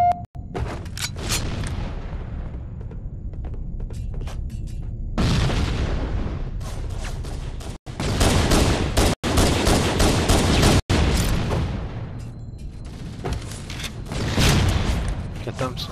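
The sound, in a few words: rocket launcher explosions and gunfire in the video game Halo 1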